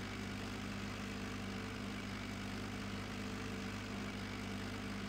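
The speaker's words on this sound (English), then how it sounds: "What do y'all think of this little tractor?" A small tractor engine idles steadily, a constant low droning rumble with even throbbing, moderately quiet and uninterrupted, no voices.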